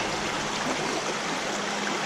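Backed-up swamp water pours through a hole opened in a beaver dam, making a steady, close rushing and trickling flow that holds even for the whole stretch.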